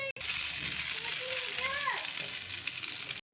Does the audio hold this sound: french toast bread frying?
yes